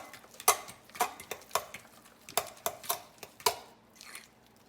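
A fork stirring egg into cheese-puff dough in a bowl, heard as a close, quick series of sharp clicks and taps against the bowl at an uneven, fast rhythm, without talk.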